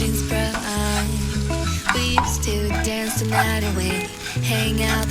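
Shredded kadayif pastry being stirred and toasted in butter in a pan over low heat, with a steady close sizzle under repeated scraping and clinking from stirring, alongside tonal background music.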